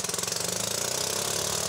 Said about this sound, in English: when you push your accelerator, it automatically starts the engine